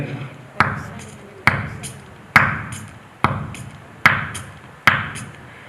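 A voice mimics boots walking on wet ground in rain: six sharp, evenly spaced squelching thuds, each followed by a short decaying splash.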